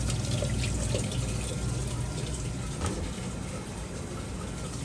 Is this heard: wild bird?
no